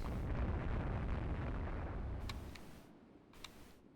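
An airstrike explodes in the naval strategy game Rule the Waves 2: a heavy rumbling blast fills the opening, then decays into a low roar with a couple of sharp cracks trailing off near the end, with no talk.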